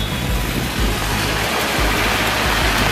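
Heavy, dense rain roars continuously in Manila, a broad steady wash of noise with a low rumble beneath, no voices.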